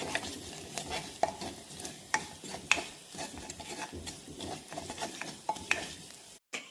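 Dried red chillies frying in a pan, a soft sizzle broken by a rhythmic series of sharp spoon clicks and scrapes against the metal, ending in a sudden brief dropout.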